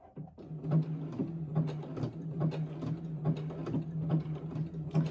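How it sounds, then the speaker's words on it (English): A sewing machine stitches a zigzag seam on fabric, giving a steady low motor hum with evenly spaced rhythmic clicks of the needle, close and alone with no talking. "then you can just start stitching"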